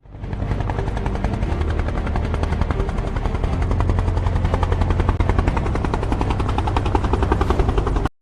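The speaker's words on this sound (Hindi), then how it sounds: "सेना में पहली बार अपाचे हेलीकॉप्टर शामिल।" An Apache military helicopter flies with a loud, steady, heavy rotor thrum and engine roar that stays close and constant throughout, then cuts off abruptly at the end.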